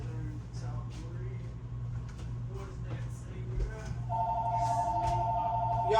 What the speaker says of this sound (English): we gotta get the phone.